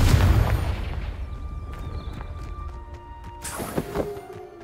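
A blasting spell detonates in Hogwarts Legacy, a loud low boom at the start with rumbling decay, followed by scattered game effects and a second sharp burst near the end.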